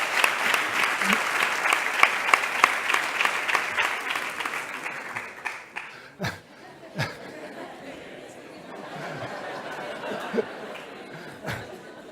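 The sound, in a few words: audience applause at a conference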